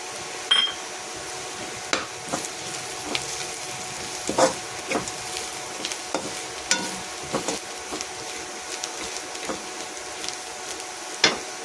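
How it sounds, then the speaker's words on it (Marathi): Curry leaves and mixed spices sizzle steadily in hot oil, a constant fine crackle with scattered sharper pops and occasional utensil taps, fairly close and without talk. "त्याच्यानंतर आपण घालणार आहे कढीपत्ता थोडा, त्याचा टेस्ट येतो."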